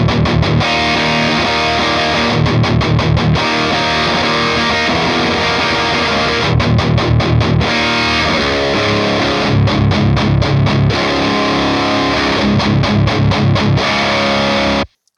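A heavily distorted, high-gain electric guitar through an Orange amp with its tight switch engaged plays chugging riffs with tight, abrupt palm-muted stops, loud and continuous.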